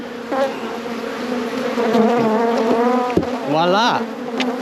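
Honeybees buzz loudly and steadily around a hive after a bee escape board has been removed, a dense close-up drone with a brief spoken word partway through.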